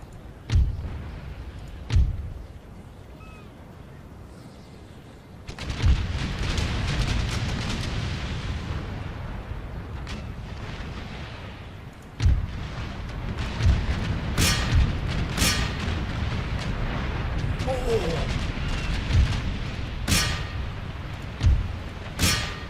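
Naval battle explosions in the video game Empire Total War, with repeated booming blasts and cannon-like bursts at varying distances over a sustained rumble of combat; several sharp loud hits stand out.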